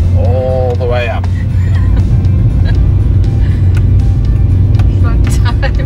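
A Fiat 500 engine labours in first gear up a steep 32% hill in Madeira. The loud, close, sustained drone runs under a person talking.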